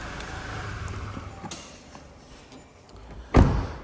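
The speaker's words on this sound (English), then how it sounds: "going to pop the bonnet for me because it's quite heavy on these" Bonnet of a 2022 Toyota Hilux 2.8 D4D double cab popping open, a single sharp metallic clunk near the end, loud and close, after a stretch of quiet ambient noise.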